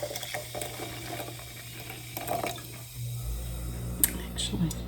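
Ginger beer is poured into a glass jar for a cherry shrub drink, giving a close, continuous liquid splash and gurgle over low hum, with a few light clinks near the end.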